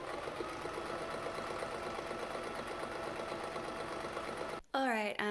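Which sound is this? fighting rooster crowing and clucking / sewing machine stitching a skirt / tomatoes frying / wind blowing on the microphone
sewing machine stitching a skirt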